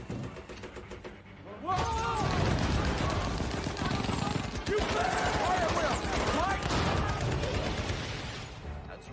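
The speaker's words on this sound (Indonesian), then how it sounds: "diikuti rentetan peluru dari senapan mesin Norman" Rapid bursts of machine gun fire in a war film rattle over a loud, dense battle din, with shouted voices mixed in.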